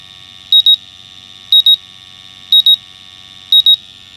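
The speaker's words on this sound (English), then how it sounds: "our unit should go a new alarm because there's a little residual" A MultiRae gas detector sounds its alarm from leftover gas after calibration, sending out loud, close, high-pitched double beeps about once a second over a faint steady tone.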